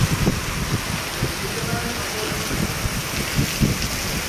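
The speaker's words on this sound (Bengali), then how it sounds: "দেখো দেখেছো বৃষ্টি আজকে, এখন দিল বৃষ্টি" Steady rain falls during a downpour, a dense even hiss with scattered closer drops and low rumbles underneath, continuous throughout.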